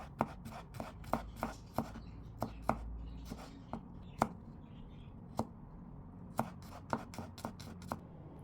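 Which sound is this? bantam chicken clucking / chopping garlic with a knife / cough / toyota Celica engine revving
chopping garlic with a knife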